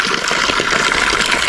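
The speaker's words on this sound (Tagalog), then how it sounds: "Tubig ito dito sa bundok. Nanggagaling sa taas niya." Cold mountain spring water pours steadily from the source on the Akiki Trail through the mossy forest toward the summit of Mount Pulag. The rushing gush is close, loud and continuous, with no voices over it.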